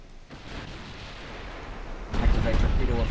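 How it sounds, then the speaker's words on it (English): A naval artillery salvo fires in the warship game Ultimate Admiral Dreadnoughts: rumbling gun reports build to a loud, heavy burst of booming near the end. "We got a massive salvo coming this way."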